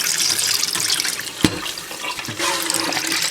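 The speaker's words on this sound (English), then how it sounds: "it's now time to remove the excess water" Excess water is poured from a container of soaked, dyed wool roving, a steady close splashing stream with a brief sharp slosh partway through and no talk.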